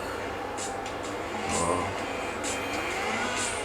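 A motorcycle engine in GTA IV hums steadily throughout, with a few brief surges as it revs, while a continuous game soundscape runs underneath.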